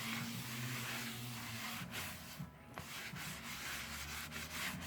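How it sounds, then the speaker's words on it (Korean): A dry rag wipes a repaired wooden floor in a home, producing a faint, continuous soft rubbing with a few scattered brushing strokes, close and without any voices. "마른 걸레로 충분히 닦고"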